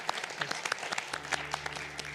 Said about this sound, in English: a round of applause to our esteemed panelists